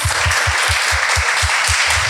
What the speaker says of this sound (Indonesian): kita tepuk tangan buat Andreas